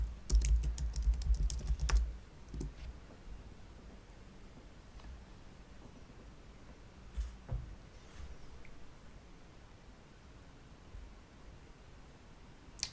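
Someone types a password on a computer keyboard, with a quick burst of close, clicky keystrokes at first, then sparse faint taps over a quiet background.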